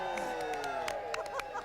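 A live studio audience at a TV weather forecaster's farewell show cheers and claps, a crowd roar with scattered whoops and sharp hand claps, with music-like tones running underneath and no clear talk.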